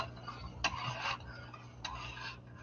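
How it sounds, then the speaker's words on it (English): A spoon stirs a pot of grits, giving two soft scraping bursts against the metal over a steady low hum. "You want to continue to stir your grits."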